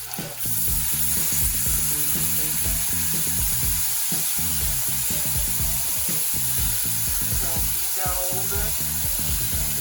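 Vegetables fry in a hot pan, giving a steady, loud sizzle that runs the whole time, with stirring clatter and a brief spoken remark over it.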